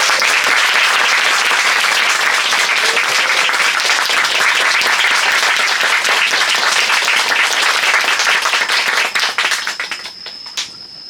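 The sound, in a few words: audience applause welcoming the author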